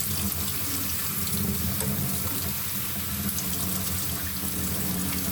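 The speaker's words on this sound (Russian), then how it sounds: "обязательно промыть холодной водой" Cold tap water runs steadily over cooked soba noodles in a sieve. The rinse is a continuous, even splashing rush with no talk.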